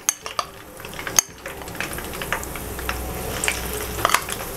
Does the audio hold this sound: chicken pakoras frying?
yes